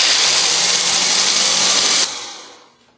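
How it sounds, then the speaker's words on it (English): A cup of hazelnuts is ground in an electric grinder. The motor roars loud and close for about two seconds, then cuts off and winds down into a fading whir. "So I have a cup of hazelnuts,"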